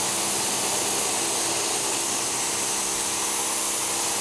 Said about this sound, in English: The Sunjo 2000 PSI pressure washer gets down into every nook and cranny and cleans it with ease.